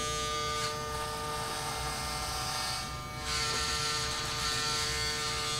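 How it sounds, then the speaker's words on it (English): Electric hair clippers buzz steadily and loudly through a haircut at home, a continuous motor whine that shifts briefly as the blade moves through hair, with no talking. "she's holding the clipper like a pro"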